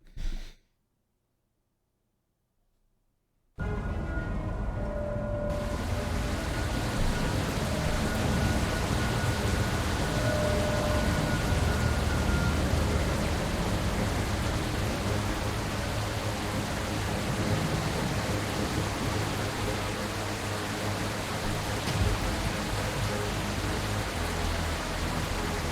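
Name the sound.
rain sound effect in an indie video game in development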